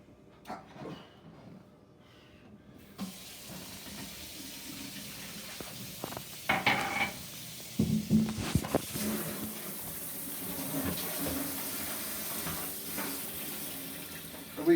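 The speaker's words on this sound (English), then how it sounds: "now wash and dry the potatoes." Potatoes are washed under a running kitchen faucet, with steady water noise into the sink and intermittent splashing and clunks as the potatoes are handled, faint at first and then louder and closer.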